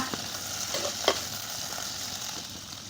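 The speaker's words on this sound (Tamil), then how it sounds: "வெண்டைக்காவை ஒரு பத்து நிமிஷத்துக்கு இந்த எண்ணெயிலேயே நல்லா வதக்கிக்கோங்க" Okra being stirred and sautéed in hot oil in a pan for a kulambu, giving a steady sizzle with a few scraping stirs, close and alone with no talking.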